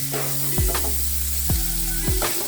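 Chopped onion sizzling as it sautés with garlic in a pan for a squid dish, a constant hiss broken by a few sharp scraping clatters of a spatula, close and loud with no talking.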